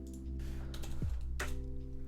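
Code is typed on a computer keyboard while a webshop store page is built: a few soft, scattered keystrokes over a steady low electrical hum, with no talking.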